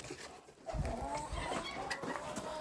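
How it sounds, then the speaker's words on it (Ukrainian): Hens cluck softly and repeatedly, a low busy chatter of several birds close by with faint background noise. "Так, кури."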